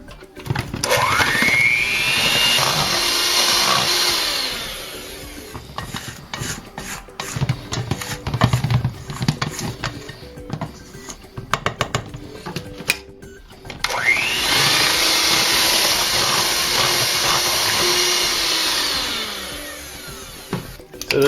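Electric hand mixer beating Japanese cheesecake batter with egg yolks, a steady loud whirring drone in two long bursts separated by clattering, scraping bowl noises in between.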